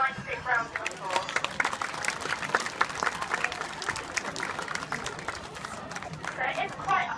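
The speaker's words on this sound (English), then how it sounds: "Should we give them a nice big round of applause?" Spectators at an outdoor bird show at Woburn Safari Park clap for the birds. The crowd's applause is lively and uneven, with some chatter mixed in, and it stays fairly loud for the whole stretch.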